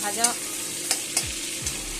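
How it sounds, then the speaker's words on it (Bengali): Fish oil sizzling softly in a hot pan while being stirred, with a few distinct scraping clinks of the spoon against the pan over a steady low frying hiss. "মাছের তেলটা দিয়ে আমি একটু নাড়াচাড়া করে নিচ্ছি।"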